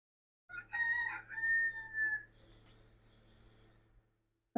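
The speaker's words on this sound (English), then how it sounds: "No, I don't have a rooster. Yeah, he's being darn noisy." A rooster crows nearby in a long, loud call with several rising and falling phrases, followed by a hissing breathy tail before falling silent.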